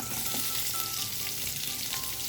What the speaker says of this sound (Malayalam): ഇനി നമുക്ക് ഇതിലോട്ട് ആവശ്യമായ സവാള ചേർത്ത് കൊടുക്കാം.